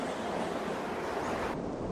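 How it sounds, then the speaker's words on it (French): Wind blows steadily through an indoor pageant hall as if a window were open, a constant close roaring rush with no voices. "Il y a du vent"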